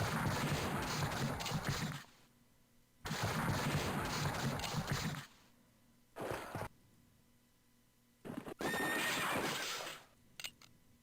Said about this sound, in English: Man, that artillery shot them the hell up.